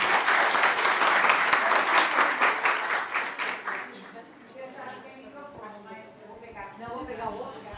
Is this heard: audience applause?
yes